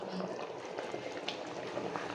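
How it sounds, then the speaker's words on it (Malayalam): Thick first-pressed coconut milk pours into a simmering chicken stew, giving a steady bubbling, liquid wash that runs continuously under a voice. "നമ്മൾ എടുത്ത് വെച്ചിട്ടുള്ള 1 കപ്പ് 1-ാം പാൽ ഒഴിച്ചു കൊടുക്കുകയാണ്."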